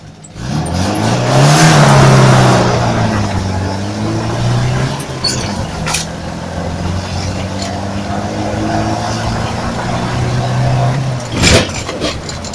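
A Moskvich car on its first drive after repair revs up and pulls away, its engine note rising and falling close by, with a sharp clunk near the end and voices talking over it.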